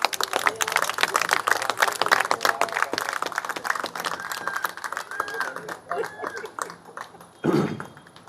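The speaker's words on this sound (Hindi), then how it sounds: "तालियां दीजिए।" Hall audience clapping for a senior postmaster arriving at a Delhi post office retirement function, a loose patter of applause mixed with chatter that thins out near the end.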